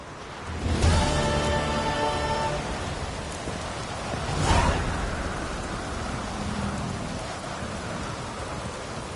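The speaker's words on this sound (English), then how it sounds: "Looks like rain." Rain in the video game The Witcher 3: a steady broadband downpour hiss runs throughout, with two louder rumbling swells, one near the start and one midway, and no voices.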